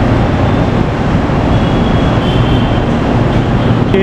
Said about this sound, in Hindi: ये आ गई अपनी मोनोरेल